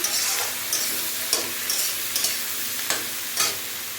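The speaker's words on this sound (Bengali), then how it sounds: "হলুদ দিয়ে দিলাম, এবার আমি এটা নাড়াচ্ছি" Fried potatoes and spring onions with turmeric are stirred in a pan, a steady loud sizzle broken by regular scraping strokes of the spoon, with no voices.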